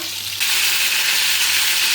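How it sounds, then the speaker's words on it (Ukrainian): A loud, steady hiss of meat sizzling in a hot pan, jumping in intensity partway through, close up with no one talking. "м'ясо смажиться"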